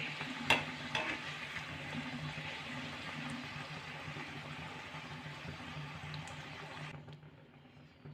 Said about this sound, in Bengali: এইভাবে ভেজে নিয়েছি আমি আবার আমি এই পাপড়িগুলো ভেজে নেব